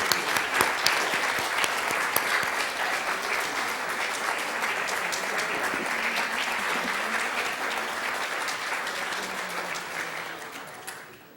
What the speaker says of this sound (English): I'd like to give a round of applause to the students here tonight.